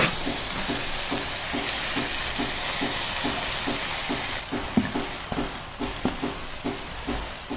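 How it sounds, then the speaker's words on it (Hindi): Tadka for pakora kadhi sizzles and crackles in a pot, a loud steady frying hiss with faint rhythmic stirring or scraping beneath, and no voices. "ये देखिए कितना ज़बरदस्त तड़का लग चुका है।"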